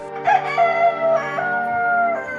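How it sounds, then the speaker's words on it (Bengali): A rooster crows in a forest at dawn, a loud, drawn-out cock-a-doodle-doo with harmonic wavering notes, heard close and alone. "ভোরের দিকে ধনিয়ার ঘুম ভাঙে। বাইরে ঝড়ার শব্দ থেমে গেছে। জঙ্গলে আবার পাখির ডাক শোনা যাচ্ছে।"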